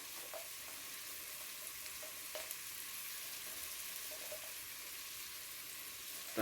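Pasta sauce sizzles and crackles steadily in a pan while being stirred, giving an even, close frying hiss with occasional small pops and scrapes and no talking.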